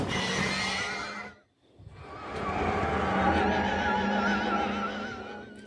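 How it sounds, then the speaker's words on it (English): A film sound effect like a dying horse: strained, wavering neighs and whinnies, loud and close, with a brief gap near the start and then a long drawn-out cry. "Sounds like a horse dying."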